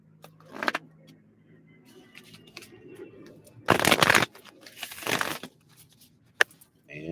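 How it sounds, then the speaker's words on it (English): Tarot cards are shuffled in several quick riffling bursts, close and crisp, with quiet pauses between them and faint handling noises. "And the Fox are just cards that I'm seeing as I'm shuffling. I still have to shuffle for you 3 more times."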